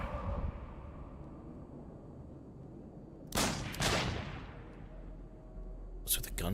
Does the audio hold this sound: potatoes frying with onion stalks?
no